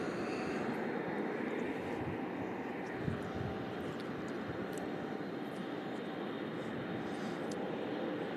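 A tri-engine jet airliner roars at Louisville International Airport, a steady loud broadband rumble from a distance that holds without break.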